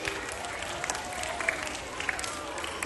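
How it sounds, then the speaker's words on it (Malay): A school crowd claps for newly appointed student prefects, a steady wash of applause at moderate distance, with a voice speaking over it. "berikan tepukan kepada semua murid turus utama yang telah dilantik"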